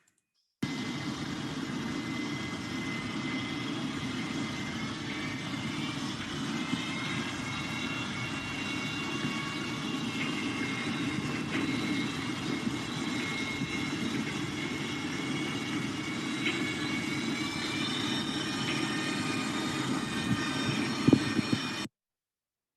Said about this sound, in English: propeller in a boat, but you're also hearing this clacking in the background, which is pile driving